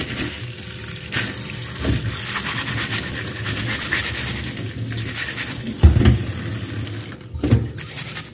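Eggshells washed under a running tap in a sink, a steady splashing water stream with scattered knocks and scrapes of shells being rubbed, and louder clattering bursts toward the end.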